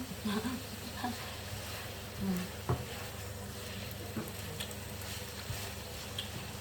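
Bitter gourd (ampalaya), cooked with egg, fries in a pan with a soft, low sizzle and a few faint stirring taps.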